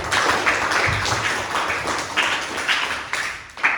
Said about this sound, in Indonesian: Beri tepuk tangan kepada Al-Mahira